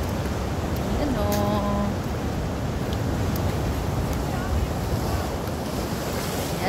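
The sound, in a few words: ocean waves by rock formations in Biri, Northern Samar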